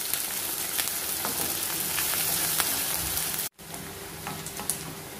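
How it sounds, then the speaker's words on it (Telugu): Sliced onions fry with curry leaves in a pan, a steady crackling sizzle with popping spatters that cuts out briefly for a moment and then resumes slightly quieter. "ఉల్లిపాయలు మనం వేయించుకోవాలి."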